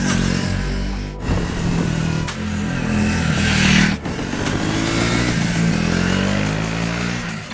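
A Triumph Thruxton 400 single-cylinder motorcycle is ridden, its engine revving up and shifting gears with brief dips between pulls, loud and close throughout.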